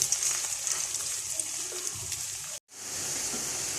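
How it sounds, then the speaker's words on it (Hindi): Okra dropped into hot oil for restaurant-style masala bhindi, giving a steady broadband sizzle of frying that fills the clip, with a brief cut to silence midway before the hiss resumes. "ऑयल हमारा जो है वो सही गरम हो चुका है। तो अब हम इसमें जी ये भिंडियाँ डाल देंगे।"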